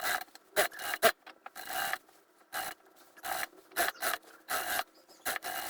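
A suit sleeve is being sewn on, likely by a sewing machine, in short bursts of whirring stitching separated by quiet pauses, close and moderately loud.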